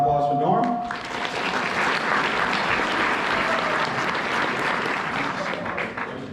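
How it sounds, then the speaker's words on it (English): A room of people applauds coach Norm Riker of Conn College at a club recruiting panel, the clapping rising quickly after a brief voice and continuing dense and steady throughout. "A round of applause for Norm."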